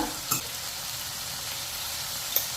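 Vegetable curry fries in a pan, giving a continuous, even sizzle with a couple of brief stirring clinks.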